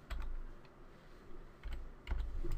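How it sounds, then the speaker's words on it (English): Someone typing a command on a computer keyboard: soft, fairly distant key taps in a few small clusters over a low room hum. "You just type cmd in there"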